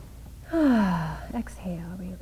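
A deep breath drawn in during a guided breathing exercise, an audible close inhale that starts a moment in and lasts about a second, followed by soft quiet speech.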